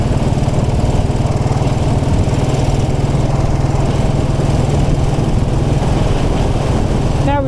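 A 1929 Ariel motorcycle engine labours uphill on a country lane, its steady low thumping drone loud and close throughout, straining without a break.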